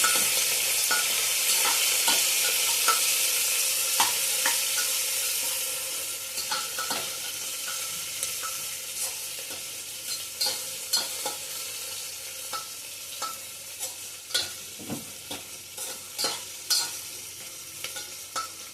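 Onions fry in a pan for a soya chunks tomato bath, with a loud, close, continuous sizzle that settles slightly and then carries repeated spatula taps and scrapes, with no voices.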